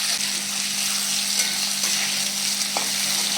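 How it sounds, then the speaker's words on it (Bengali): Steady, close sizzling of tomatoes frying in a pan, with a faint stir or scrape now and then and no talking. "এবার আমি টমেটো দিয়ে দিচ্ছি টমেটোটা ভাজা হবে"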